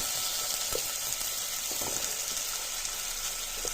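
Tomatoes fry in a pan with papaya under a continuous close, bright sizzle. A few faint stirring taps sound over it.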